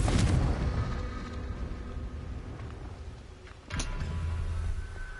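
A Confringo blasting spell goes off in Hogwarts Legacy with a loud opening burst that rumbles and fades over several seconds, followed by a second, sharper blast and a sustained roar.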